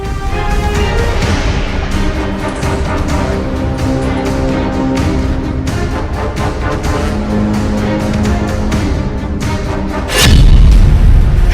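Hamas fighters attack Israeli tanks and armoured fighting vehicles at close range in Gaza, and one heavy, deep blast booms out loudly near the end after a sustained droning, music-like background.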